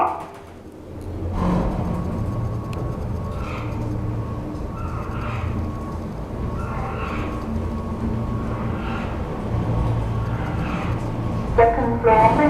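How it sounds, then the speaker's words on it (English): A lift rises with a steady whirring, rumbling motor drone that holds evenly for several seconds after a brief start, ending with announcement chimes, under a low background hum. "Lift going up."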